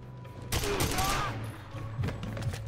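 Russian pistol firing in GoldenEye 007 Reloaded: a cluster of sharp shots, then a second quicker pair of reports, set against steady background game noise at moderate volume.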